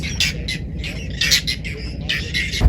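Harsh, raspy bird squawks repeat rapidly and overlap, loud and close, over a steady low outdoor background at Işıklı Lake in Çivril.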